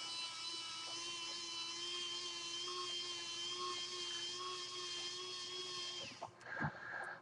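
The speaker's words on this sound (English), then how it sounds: "this is called a General Electric screwdriver" A General Electric battery-powered electric screwdriver running on AAA batteries during a Toshiba Satellite L555 laptop screen replacement, a steady high motor whine held for about six seconds before it stops, followed by a few soft handling clicks.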